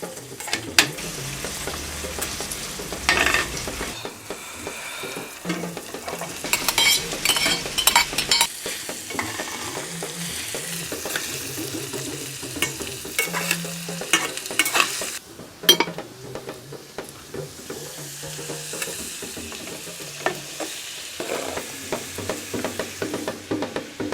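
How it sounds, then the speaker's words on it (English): Onions, carrots and potato frying in a pan as they are stirred, a continuous close sizzle with repeated scraping and clinking of the spoon against the pan, no voices over it. "Once the onions fry and they're a little bit soft, the next thing to go in would be the carrots and the potato."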